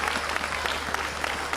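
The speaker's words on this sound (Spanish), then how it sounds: "Aplauso fuerte para Blas Piñón, que se oiga." An outdoor festival crowd at the Arra fiestas in Noia claps loudly and steadily, celebrating the 25th anniversary of the duo Blas e París de Noia, with dense, even applause throughout.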